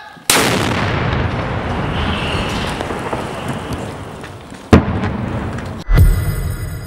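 Artillery fires on a Ukrainian front line. A sharp, heavy boom opens and rolls into a long rumbling decay, followed by two more loud blasts later on, all without speech.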